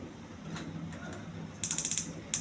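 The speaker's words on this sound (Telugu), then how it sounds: "స్టవ్ వెలిగించుకోవాలండి." A gas stove igniter clicks rapidly in a quick burst of sharp ticks, pauses, then clicks again briefly against a quiet room.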